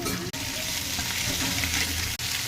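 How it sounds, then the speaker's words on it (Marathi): Ginger and tomato fry in a pan for a rustic village-style drumstick curry, giving a steady close sizzle with light stirring scrapes, broken by two brief gaps. "त्यात आलं टोमॅटो भाजून घेऊया"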